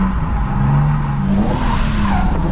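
Ford Falcon tyres screech and skid continuously while drifting on the handbrake, a loud close squeal over engine roar lasting a couple of seconds.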